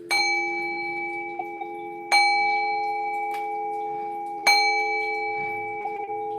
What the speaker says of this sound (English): I'm gonna ring the bell here.